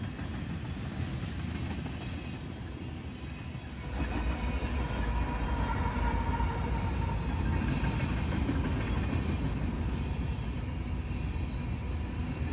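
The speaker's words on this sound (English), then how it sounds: "And then another train came past, sneaking up on me again and headed in the same direction." A long CPKC mixed manifest freight train rolls past in Alberta, a continuous heavy rumble of wheels and cars with a faint metallic squeal, growing louder midway and staying steady.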